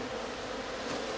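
Bees hum steadily around hives on an apiary of twelve hives, a dense continuous buzz of many insects, close and fairly loud with no voices.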